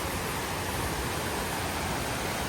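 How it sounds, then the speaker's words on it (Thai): A waterfall in a misty mountain forest roars as a steady, even rush of falling water, constant and unbroken across the short stretch with no voices over it. "น้ำตกข้างล่างคือเยอะมากจริง"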